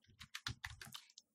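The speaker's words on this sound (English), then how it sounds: "So for that we type" Quick bursts of keystrokes on a computer keyboard, a dozen or so close, crisp clicks in an uneven rhythm, with no one talking.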